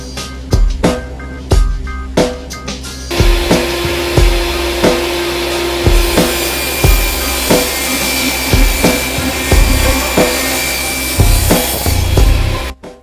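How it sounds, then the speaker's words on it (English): Long strokes of a saw ripping down thin 1/4-inch cherry boards for a cabinet, loud and close with a steady rhythmic rasp and a constant hum of machinery running underneath. "we're going to be ripping down some pieces of 1/4-inch cherry in order to start putting the actual cabinet together."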